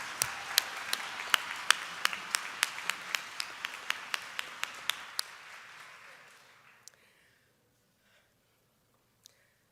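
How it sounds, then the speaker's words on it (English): Audience at a university academic convocation applauding with a string of distinct, evenly paced claps that thin out and fade away. A stray final clap follows near silence. "Can we give them another round of applause?"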